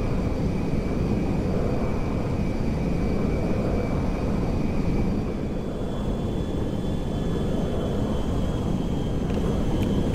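Steady, loud aircraft engine drone from a jet descending on final approach to land at Andersen Air Force Base, Guam, in GTA 5, holding a continuous roar with a faint high whine throughout.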